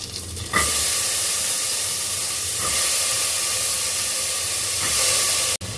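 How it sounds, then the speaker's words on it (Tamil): Chopped chayote, carrot and beans sauté in a hot pan for a Tamil vegetable kootu, giving a loud, steady sizzle and hiss that runs unbroken and close-up, with a brief sharp cut near the end. "இப்போது காய் எல்லாத்தையும் சேர்த்தாச்சு இதை கொஞ்சம் நல்லா வதக்கி விட்டுக்கலாம்"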